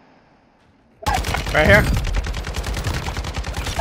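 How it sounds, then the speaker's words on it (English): Rapid video game gunfire crackles in a sustained, loud burst of shots from across a map, with a brief voice speaking just as the firing begins. "They're shooting from across too, just heads up."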